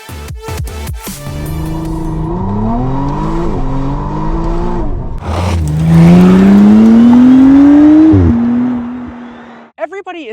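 A McLaren Artura Spider drifting with traction control off, its engine revving hard and rising in pitch through several gear pulls, with a loud climbing howl and a brief chirp of tires near the end.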